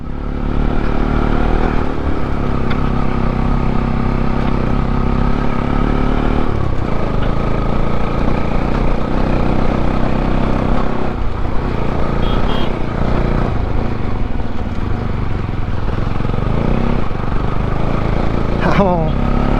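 A motorbike climbs uphill along a rough, slippery off-road mountain trail, its engine droning steadily and loudly throughout with a shift in tone partway, while a voice talks over the riding noise.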